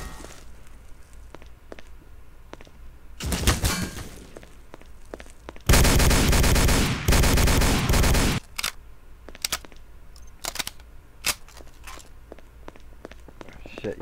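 Gunfire in the video game Dead Light: a short burst, then a louder sustained volley lasting a couple of seconds, followed by scattered single pops, with voices talking around it.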